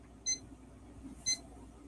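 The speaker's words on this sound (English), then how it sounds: "Hold on, my alarm's going off." An alarm gives two short electronic beeps about a second apart, fairly faint over a low background hum with no talking.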